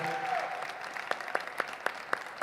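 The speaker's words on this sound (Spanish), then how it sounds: "esta vez presencial, esta vez con gente aplaudiendo" Sparse, crisp claps ring out in a loose rhythm after a brief tone, a small live audience applauding lightly at a singing audition rather than a full ovation.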